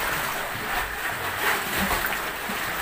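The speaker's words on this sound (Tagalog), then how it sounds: "Grabe, lakas ng alon." Strong sea waves surging near a rocky seaside tunnel, a loud continuous rushing wash that swells and recedes, heard close with no talk.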